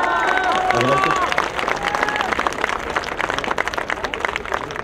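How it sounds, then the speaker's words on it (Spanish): At a transparency fair in Álvaro Obregón, a crowd applauds loudly with dense, steady clapping and some cheering, tapering slightly toward the end. "El aplauso, por favor."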